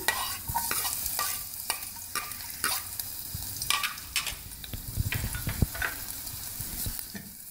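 Garlic sizzles steadily in oil in a pan while a utensil stirs and taps against it, with irregular scraping clicks over the constant frying hiss.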